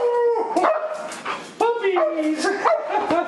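Puppies barking and yipping in quick high-pitched bursts, close and loud, with whimpering tones between barks.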